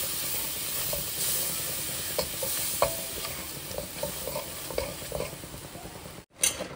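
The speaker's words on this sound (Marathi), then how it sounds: "बटर घातल्यानंतर थोडासा मैदा, बटरमध्ये मैद्याला थोडंसं परतून घेऊ आपण" Flour being stirred and roasted in melted butter in a pan for white sauce, giving a steady soft sizzle with irregular scraping strokes of the spoon throughout.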